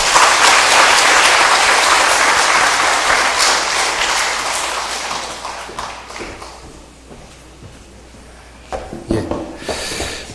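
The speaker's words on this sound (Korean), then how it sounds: "다시 한번 박수 한번 보내주시고요" A large audience at a pastors' seminar in a church applauds loudly after a lecture, a dense roar of clapping that gradually thins and fades, followed by a few scattered claps and a brief renewed burst near the end.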